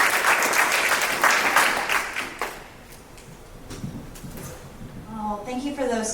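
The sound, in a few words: audience applause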